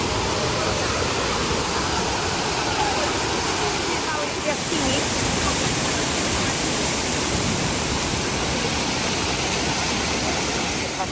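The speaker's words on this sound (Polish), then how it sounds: "Fajnie słuchać jak ten wodospad, słuchajcie, ta woda spada." Waterfall at Monsal Head in the Peak District, a steady broadband rush of falling water filling the whole clip at constant loudness, with a brief spoken word partway through.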